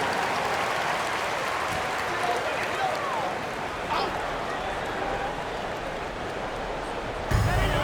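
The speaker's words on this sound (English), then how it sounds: "Let's give them a round of applause for Florida Gators dancers." Basketball arena crowd applauding the Florida Gators dancers during a PBA Philippine Cup game, a steady wash of clapping and cheering that holds throughout, with speech mixed in.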